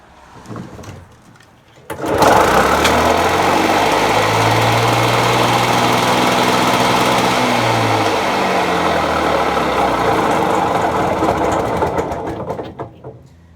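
Victa lawn mower's small petrol engine fires up after a couple of faint rattles and settles into a loud, steady, close buzzing run that wavers slightly in pitch before dying away at the end.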